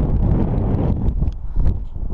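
Strong wind buffets the microphone on an open hilltop during a bicycle hike, a loud continuous rumbling roar with gusty swells and no speech.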